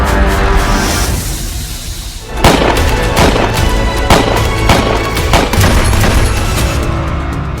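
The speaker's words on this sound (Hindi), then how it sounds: "हमलावर ट्रंप से सिर्फ 20 से 50 मीटर की दूरी पर गोलियां चला रहा था।" Gunfire from an attacker about 20 to 50 meters from a stage cracks out in a rapid burst of loud, sharp shots, a dense volley repeating over several seconds with no talk.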